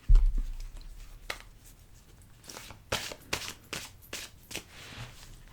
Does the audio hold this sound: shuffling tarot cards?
yes